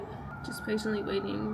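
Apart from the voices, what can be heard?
emergency vehicle sirens outside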